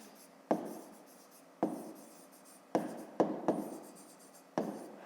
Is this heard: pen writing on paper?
yes